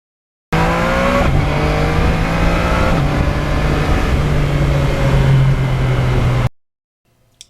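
A 2020 Yamaha MT-09 motorcycle engine with a quick shifter revving hard and close, a loud continuous roar climbing in pitch with a couple of quick shifts before cutting off abruptly.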